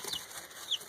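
Young chicken chicks give two or three brief high peeps close by over a soft background hiss, quick and light, with no voices.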